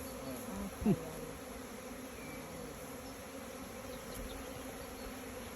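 Honeybees buzzing around the entrance of a hive as they return inside, a low steady hum of many insects with one brief louder buzz passing close early on.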